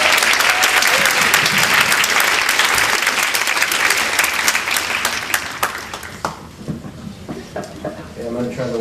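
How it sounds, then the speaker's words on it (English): Audience applause from a seated crowd at a lecture on legal aspects of antipsychotic medication use, loud and dense for about six seconds before thinning into scattered claps and room noise. "So let's give him a big round of applause."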